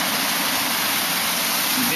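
A waterfall fed by melting snow roars steadily in an icy mountain setting, a dense, continuous rushing wash that fills the whole clip at close range with no break.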